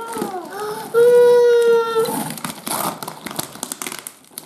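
Tape and wrapping on a gift package being torn open, with crinkling, crackling and ripping bursts close up, alongside a brief high squealing tone and voices.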